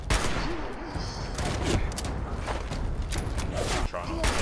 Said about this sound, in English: I'm still getting peppered with fucking bullets